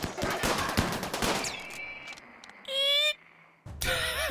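Auto-charge turret volley in RimWorld: a dense burst of sharp shots over the first second and a half, then scattered weapon noises and tonal electronic blips, loud and close with no voices.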